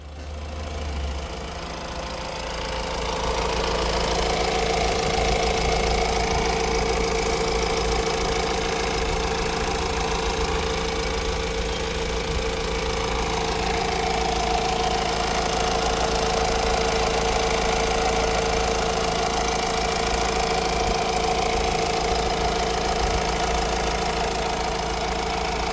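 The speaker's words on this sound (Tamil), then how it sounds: "இன்ஜினை ஸ்டார்ட் பண்ணி இன்ஜினோட சவுண்ட் எப்படி இருக்குன்றதை அந்த வீடியோவில் காட்ட போகிறோம்" A 2015 Honda Amaze i-DTEC diesel engine idles close by with a steady, knocking clatter and a constant low hum that settles in after start-up, running alone without voices.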